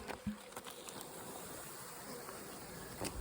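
Honeybees hum around open hive boxes after the season's first frost, a faint, steady buzzing drone near and far with a few louder passes of individual bees and occasional small knocks.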